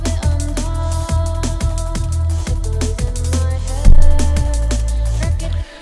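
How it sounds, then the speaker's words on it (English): A liquid drum and bass bass line built in Studio One, a deep, loud, rhythmic sub-bass pattern repeating in regular pulses alongside drums, played alone without any voice. "I've got the single, at the moment, bass line, which sounds like this."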